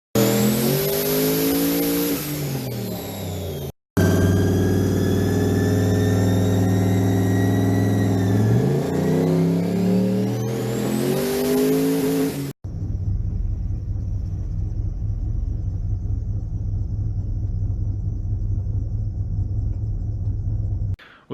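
A tuned truck making around 700 horsepower to the tires revs hard and loud, its engine pitch sweeping up and down through repeated pulls with a brief cut partway through. Then a steady, deep engine rumble drones on to the end.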